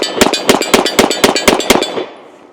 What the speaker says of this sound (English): let's go ahead and take a few shots with it and see how she runs